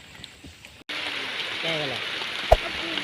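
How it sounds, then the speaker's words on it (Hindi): Heavy rain pours while people shelter under a cart. After a brief quieter start it becomes a loud, steady hiss, with a voice talking over it. "आज बहुत बारिश हो रही है और हम इस वक्त रेढ़ी के नीचे हैं।"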